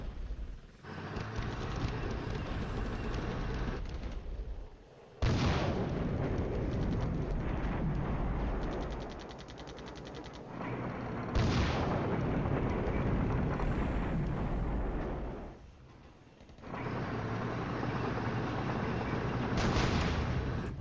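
Artillery and mortar fire in the Flashpoint Campaigns wargame comes as long, heavy rumbling bursts of booming noise, with a few loud sustained barrages separated by brief quieter gaps.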